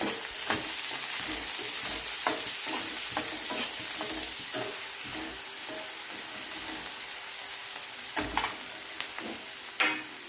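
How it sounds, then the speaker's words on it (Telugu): Chopped onions and green chilies sizzle steadily in a hot pan while a spatula stirs them, its scrapes and taps recurring irregularly over the constant close frying hiss. "ఈ ఉల్లిపాయలు కలర్ మారేంత వరకు కలుపుకోవాలి"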